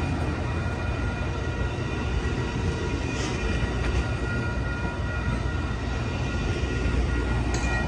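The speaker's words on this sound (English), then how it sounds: "there go that train." The Amtrak Coast Starlight passenger train rumbles past steadily and close by at the 98th Avenue crossing in Oakland, a dense continuous roar of rolling cars, with faint higher squeals over the top.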